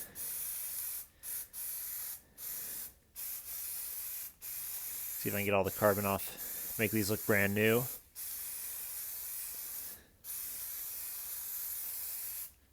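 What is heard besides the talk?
spraying cleaner onto a pan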